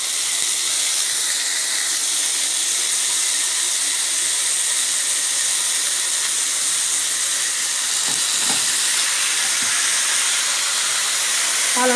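Frozen homemade burger patties sear in a hot pan over high heat, giving a loud, steady sizzling hiss that runs unbroken from start to finish, with no voices.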